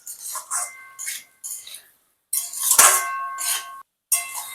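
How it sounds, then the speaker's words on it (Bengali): Potatoes and jackfruit stirred with spices in a kadai, a series of separate metallic scrapes and clinks from a spoon against the pan with short silent gaps between them, close and fairly loud. "এরপর আলু আর এঁচোড়গুলোকে মশলার সঙ্গে ভালো করে মিশিয়ে নেব।"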